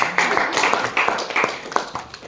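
An audience at a speakers forum claps, a steady patter of many hands carrying on for the whole stretch at a moderate level with no break.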